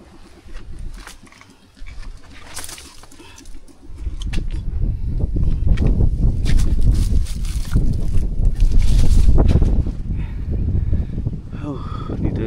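Strong wind buffets the microphone on an island hilltop, a deep continuous roar that swells and gusts loudly after the first few seconds, with faint voices mixed in underneath.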